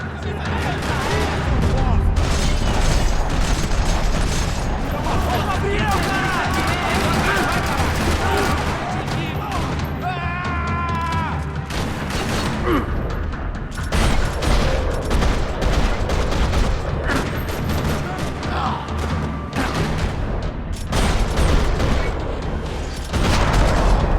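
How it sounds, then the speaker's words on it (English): Rapid bursts of gunfire crackle and rattle continuously over a dense, busy background in a parking lot in the video game Max Payne 3, with occasional booms and indistinct voices mixed in. "Another parking lot rattling with gunfire."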